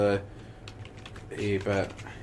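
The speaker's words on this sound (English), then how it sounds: "people can hear this typing, obviously" Keystrokes on a computer keyboard clatter in quick bursts at moderate distance, with people talking over and around the typing.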